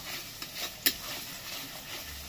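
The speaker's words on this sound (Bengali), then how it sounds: "এবার এরকম করে ছিঁড়ে দিয়ে দেবো এখানে, হালকা করে নেড়ে।" Torn gondhoraj lemon leaves stirred gently into hot oil for an egg curry: a soft, steady sizzle with one sharp utensil tap near the middle, and no talking.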